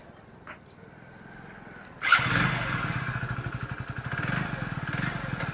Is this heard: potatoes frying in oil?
no